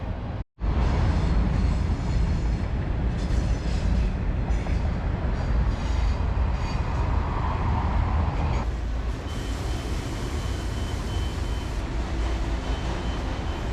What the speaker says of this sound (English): It's probably one of the longest freight trains I've ever seen.